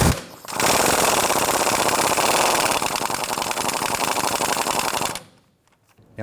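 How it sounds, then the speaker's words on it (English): A 15mm socket on a ratchet or impact tool loosening a rusty tie rod adjuster sleeve nut on a 1993-1997 Ford Ranger front end, giving a loud, continuous rapid hammering rattle for about five seconds before it stops. "Using a 15mm socket, we're going to go ahead and loosen our adjuster sleeve nut here."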